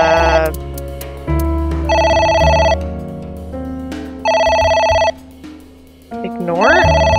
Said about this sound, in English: Oh, that worked. A phone.